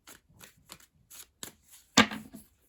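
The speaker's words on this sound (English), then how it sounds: "let's give them one last shuffle until next winter" Tarot cards are riffled and shuffled in a few quick, close bursts, ending in a louder slap as the deck comes together.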